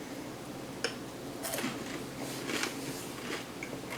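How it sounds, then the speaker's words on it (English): Crunchy fried Mauritian taro balls made from purple yam being bitten and chewed up close, a sharp first crunch followed by several crisp crackling bites. "You can actually hear how crunchy they are."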